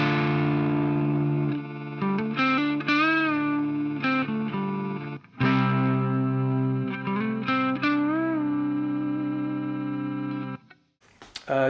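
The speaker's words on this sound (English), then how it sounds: "A couple of other effects I just want to have a quick look at is one is like a freeze effect." BOSS MS-3 guitar multi-effects unit running a freeze effect: sustained, held guitar chords with layered harmonics and slight pitch wobble, repeated phrases over about ten seconds, then cutting off near the end.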